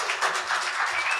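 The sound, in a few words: audience applause for a performer at an open mic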